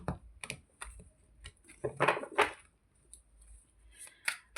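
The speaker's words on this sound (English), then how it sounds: "let me shuffle the cards" Tarot cards are shuffled by hand, giving quick, crisp riffling and slapping bursts in an irregular rhythm, close up and fairly quiet with short pauses between.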